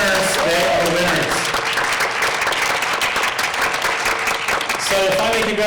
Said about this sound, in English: Yeah, huge applause